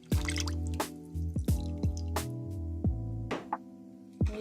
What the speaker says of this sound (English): Now we're going to add in our heavy cream.